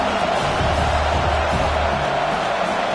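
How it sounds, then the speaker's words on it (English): Football stadium crowd roaring to urge on the home defense before a red zone stop, a dense, loud and sustained wash of cheering noise with no breaks. "And here comes the noise. This crowd is trying to inspire this defense to make a big red zone stop."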